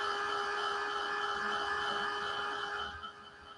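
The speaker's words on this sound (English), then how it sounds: "I can take my heat tool" A heat tool blows hot air over a wooden shiplap craft tag decorated with decoupage, erasing friction-pen ink, giving a steady close whirring hiss that drops off near the end as it switches off.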